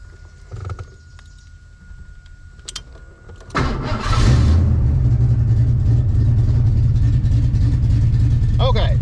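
An old barn-find car, unmoved since 2005, cranks briefly and then its engine catches and settles into a loud, steady idle close by, after a few clicks and creaks of handling.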